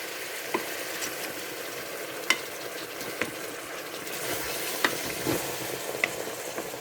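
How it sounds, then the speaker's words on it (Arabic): Chopped onions frying in a pan and being stirred, giving a steady close sizzle broken by sharp scraping clicks of the utensil every second or so. "وندورو غير بالعقل باش هذاك البصل يهود"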